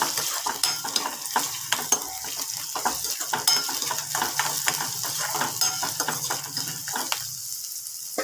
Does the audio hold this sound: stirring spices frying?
yes